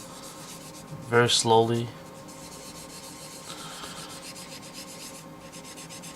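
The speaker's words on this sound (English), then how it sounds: "as I'm sanding, the decal is not being damaged" Sandpaper worked slowly along the clear-coated edges of a waterslide decal gives a soft, steady scratchy rubbing close by, with a short spoken phrase early on.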